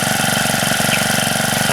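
The small Husqvarna 224L/324L 4-cycle trimmer engine runs steadily after a recoil start, a close, even idling buzz with a regular pulsing rhythm and no talk.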